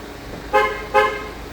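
A car horn sounds two short honks about half a second apart, loud and close, as a smart alarm system on a parked car signals remote start.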